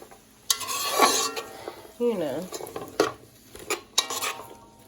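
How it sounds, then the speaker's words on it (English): Jamaican-style brown stewed chicken stirred in a pot, with repeated scraping and clinking of a utensil against the pot over a light sizzle, a few bursts spread across the clip, with no talk over it. "Take everything in, move it around. Stir it around, I should say."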